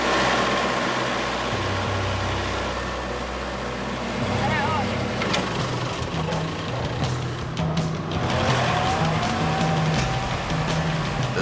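A truck bogged down in deep mud on a rough Laos road, its engine droning and straining in a continuous loud rumble, with scraping and splashing bursts mid-way and voices talking over the noise.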